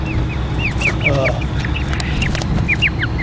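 Young quail about three to four weeks old, a hybrid of brown birds, chirp in a steady run of high, upward-sweeping peeps. The calls are close and fairly loud over a constant low background hum.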